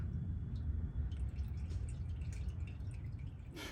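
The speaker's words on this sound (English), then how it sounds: "we're gonna loosen that oil plug, drain it, take that filter off, and get busy" Engine oil draining from the oil pan of a Nissan 370Z Nismo, a low, steady liquid stream with faint dripping and a brief clink toward the end, close by and without speech.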